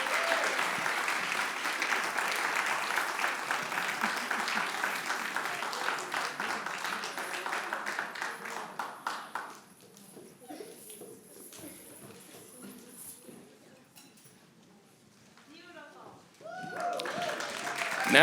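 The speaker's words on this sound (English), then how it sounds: "Give us another round of applause, ladies and gentlemen." An audience at a cultural festival applauds the volunteers, loud dense clapping for about nine seconds that fades to scattered claps and murmuring talk, then swells again at the end.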